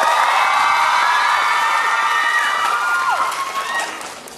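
Crowd at a fan meet event screaming and cheering loudly and continuously, shrill high-pitched voices overlapping, fading slightly toward the end.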